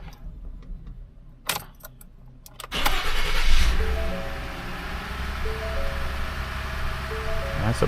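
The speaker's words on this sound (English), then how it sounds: "fire it up, make sure everything runs good" A Ford F-150 with the 2.7 EcoBoost engine, fresh spark plugs fitted, makes a cold start after a jingle of keys and a brief crank, then settles into a steady, fairly loud idle.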